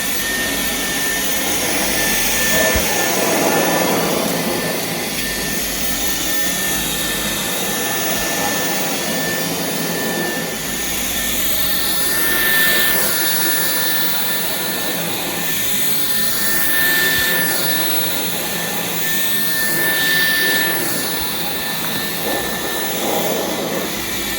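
A bonnet-machine floor-cleaning session followed by a vacuum cleaner running on its high setting over carpet, a steady loud whining drone with gentle surges as it sweeps back and forth, heard alone for the full length.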